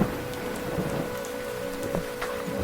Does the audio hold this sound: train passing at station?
no